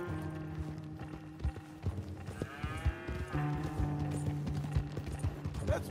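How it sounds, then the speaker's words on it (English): Horse hooves clip-clop steadily in Red Dead Redemption 2, a run of close, regular thuds over a low background hum with brief tonal game sounds in between. "Take that horse along. Go easy on him."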